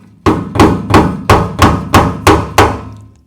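A hammer striking the fuel tank lock ring on a 1965 Mustang, seven sharp metallic blows in an even rhythm, close and loud with no talking.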